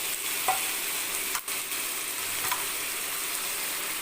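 Dried fish (karuvadu) frying in oil on a hot tawa gives a steady, fairly quiet sizzling hiss throughout, with a couple of faint clicks and one brief dip partway.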